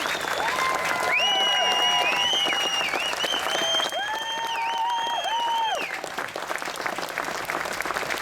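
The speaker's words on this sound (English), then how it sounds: "let's hear the applause" Dense, steady applause from an outdoor show audience after an RAF Falcons display at the 2015 Norfolk Show carries on for several seconds, with sustained tones ringing above the clapping.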